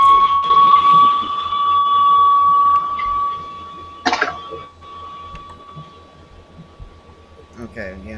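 A steady high electronic air raid siren tone drones for a few seconds, distant, under a murmur of background noise and a brief burst of rustling, heard over an online call.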